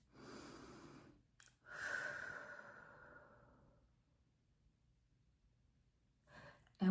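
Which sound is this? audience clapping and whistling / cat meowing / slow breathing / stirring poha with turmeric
slow breathing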